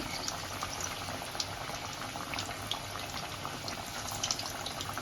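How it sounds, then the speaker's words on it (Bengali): Chicken kebabs fry three at a time in a pan over a low gas flame, giving a steady, even bubbling sizzle with small crackles scattered through it, close and moderately quiet, with no voices. "আমি এভাবে 3টে করে ভাজা করে নেব।"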